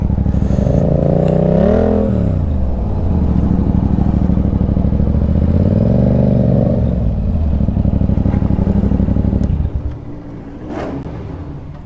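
A small motorcycle with a tiny gas tank, nearly out of fuel, runs close by with a rough, rising and falling engine note that repeatedly swells, then fades to a quieter idle near the end.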